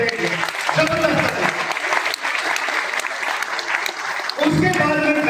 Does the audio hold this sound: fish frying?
no